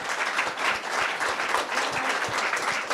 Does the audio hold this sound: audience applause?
yes